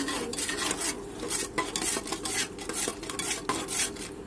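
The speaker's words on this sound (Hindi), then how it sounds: "इसे अच्छी तरह से मिक्स कर ले।" A spoon stirs a spiced potato biryani mixture in a pressure cooker, giving steady scraping, clinking strokes against the metal with a faint sizzle, close and continuous with no talking.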